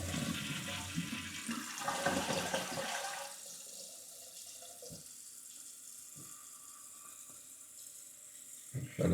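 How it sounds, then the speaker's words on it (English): A toilet flushes with a loud rush of water after its fill valve has been replaced, then the tank refills with a quieter, steady hiss and trickle, heard close in a bathroom. "We're going to flush it and let it fill up again."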